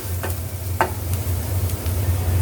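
Soya chap roasting in a pan with black pepper and salt, a soft continuous sizzle under a low hum and a couple of brief spoon scrapes.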